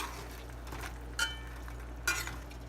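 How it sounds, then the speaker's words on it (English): Spoon scraping and clinking in a pot of Guyanese-style chicken curry, soft sizzling underneath with two sharper metallic knocks against the pot, quiet and close. "I'm gonna grab my spoon and turn it up"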